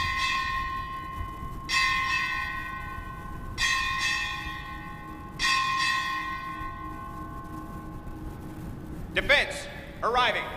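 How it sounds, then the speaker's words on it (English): A ship's bell struck during a U.S. Indo-Pacific Command change of command ceremony, clear ringing strokes in spaced pairs with long decaying tones, then quicker final strikes, in a large hall with background murmur. "Strike 8 bells."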